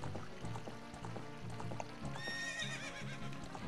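A horse in Zelda: Ocarina of Time trots with a steady clip-clop of hooves, then lets out a bright rising whinny near the end, close and clear over faint game background.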